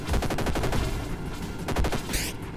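Rapid automatic gunfire with incendiary rounds in a Call of Duty zombies match: two fast bursts of shots, close and loud, with a short gap between them.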